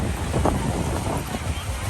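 Strong wind gusting across the Mekong riverside in Vientiane, a steady loud rumbling buffet on the microphone that fills the whole stretch with no speech over it.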